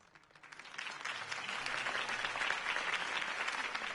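Video game crowd applause rising quickly from quiet to a dense, sustained clapping that carries on to the end.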